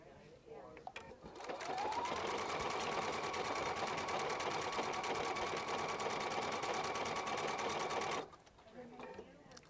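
A Viking Epic 2 sewing machine runs steadily for about six seconds while stitching a heart, with a rapid even needle clatter that starts and stops abruptly, close by, with a speaking voice faintly beneath it.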